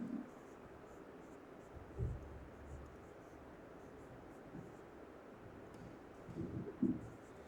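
A pen scratches out a chemical structure by hand in faint, soft strokes with brief pauses, close and quiet over a hiss of background noise, with no talking.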